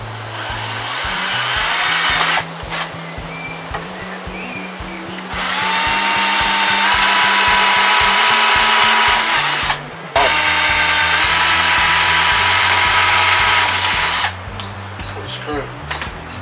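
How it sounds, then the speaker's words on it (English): A power drill drilling a hole in wood whines in long, loud bursts with short pauses between them, with voices talking underneath. "Now I'm going to drill a hole."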